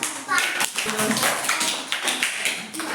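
Children clapping together in a first-grade Telugu class, a burst of fast hand claps running nearly throughout, close and fairly loud, with a teacher's voice and children's voices mixed in.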